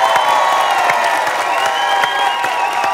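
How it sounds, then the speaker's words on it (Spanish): A television studio audience on a Spanish-language late-night comedy show claps and cheers loudly, with whoops and shouts riding over a steady roar of applause. "un fuerte aplauso para Ariel"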